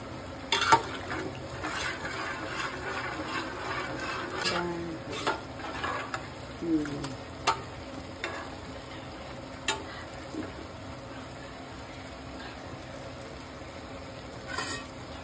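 A spoon stirs boti sambar curry in a pot, making faint, scattered scrapes and clicks over a low, steady background, with no talking.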